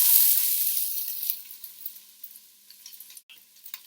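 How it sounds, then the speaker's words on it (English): Onions hit a hot oiled pan and sear with a loud hiss that fades into a quieter crackling sizzle, broken by a few spatula scrapes and clinks. "once the pan is hot, that's when you put in your onions for caramelization"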